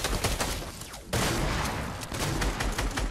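Rapid bursts of gunfire in Fortnite zombie mode, dense and loud throughout, with a brief dip before the shooting surges again.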